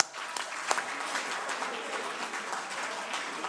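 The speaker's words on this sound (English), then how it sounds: "I will request everyone to clap with me 3 times and shout 40 as loud as" Reunion audience of a 1981 graduating class clapping together in a large hall, a dense, steady wash of applause from many hands filling the whole stretch at moderate loudness, with one sharper clap standing out early.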